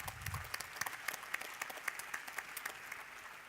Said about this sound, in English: I think that man deserves a round of applause